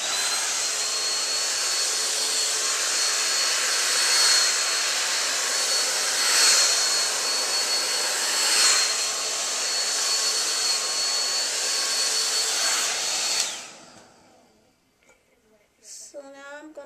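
A hair dryer blows steadily close by while hair is blow-dried around the hairline, a loud continuous whoosh that swells slightly as it moves, then shuts off near the end, followed by a brief spoken voice.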